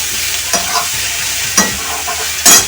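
Bottle gourd sautéed in a pan, loud close scrapes of a spatula stirring at about one-second intervals over a constant sizzle, with no voices.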